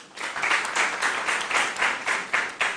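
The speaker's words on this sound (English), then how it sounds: "Give them a round of applause, please" Audience applause for a school team, St. Peter's Basic School, at a junior quiz contest, a few seconds of steady mixed clapping with rhythmic surges, moderately loud and alone without talk.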